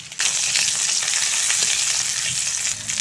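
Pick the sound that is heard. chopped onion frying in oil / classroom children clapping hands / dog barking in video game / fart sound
chopped onion frying in oil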